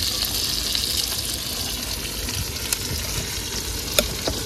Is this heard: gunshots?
no